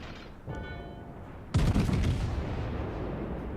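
Naval gunfire rumbles in World of Warships. A low ambient roar gives way to a sudden heavy boom near the midpoint, and the blast decays into a sustained loud rumble.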